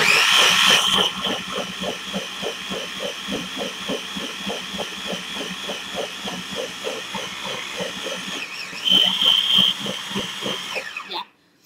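A blender whirs loudly and continuously on a thick chocolate, peanut butter and banana smoothie, its motor pulsing in a rapid steady churn for about eleven seconds, rising briefly near the end before cutting off abruptly.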